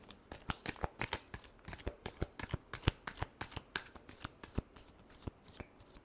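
Tarot cards are shuffled rapidly by hand, a dense run of crisp riffling flaps and taps in quick, uneven rhythm, close and fairly quiet, with no voice over it.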